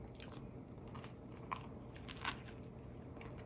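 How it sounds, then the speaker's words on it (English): Someone bites and chews a lettuce sandwich with mayo, making a few quiet, close crunches and soft chewing sounds spread over a few seconds, no talking. "Tastes good with the mayo, but it's not like iceberg lettuce."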